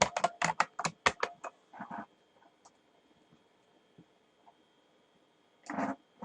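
A computer keyboard being typed on while code is written, a quick burst of crisp, close keystrokes at the start, then near silence broken by a couple of faint taps and a short final cluster of clicks.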